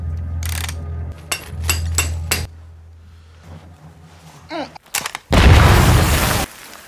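An explosives blast in a mine in a film scene: a tense, irregular string of mechanical clanks and rumbles, a warbling tone, then a sudden loud roaring burst of noise that fades abruptly.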